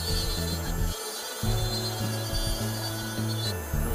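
Gypsum dental die being trimmed with a rotary instrument, a steady close grinding whir with brief dips and restarts, loud and alone with no talking.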